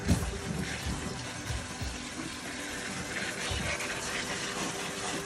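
Cold water from a kitchen sink sprayer rinses fresh basil leaves, a steady broad hiss and splatter running continuously at close range.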